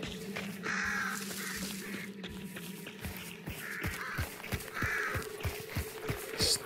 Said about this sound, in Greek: Πουλιά. Κακά πουλάκια.